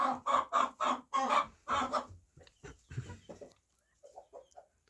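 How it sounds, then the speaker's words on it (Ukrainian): An old dwarf Cochin hen clucks in a henhouse, a string of close, fairly loud rhythmic clucks and squawks that thin out into softer, quieter clucking toward the end. "Це старенька курочка карликою хінхін."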